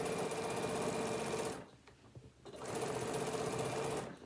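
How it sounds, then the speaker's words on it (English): A sewing machine stitches the raw edges of a fabric tablet holder together in two steady, loud whirring runs, with a short pause between them. "All raw edges together and start to stitch."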